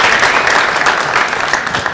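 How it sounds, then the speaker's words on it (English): Audience applause at a teen takeover weekend event, a dense steady wash of clapping from a crowd, loud and continuous for the whole moment with no talk over it. "Let's give Mr. Jones a round of applause, please"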